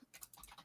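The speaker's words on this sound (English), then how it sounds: "Typing." Quiet typing on a computer keyboard, a quick uneven patter of several light key clicks close by, with no talk.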